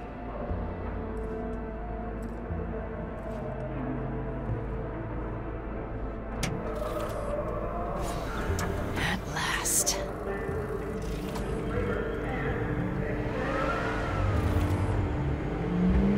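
A car in Cyberpunk 2077 drives along with a steady engine rumble and whir, rising at times as it accelerates, while talk and other game sounds run over it.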